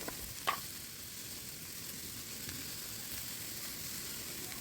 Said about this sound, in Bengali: এবার এটাকে ভালো করে নাড়াচাড়া করবো